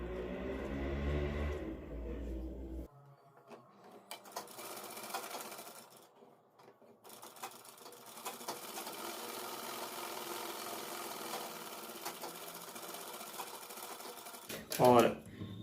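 A sewing machine runs in bursts while stitching along the buckram edge of a kurti collar, its motor whirring steadily for long stretches between brief pauses, with a voice speaking at the start and end.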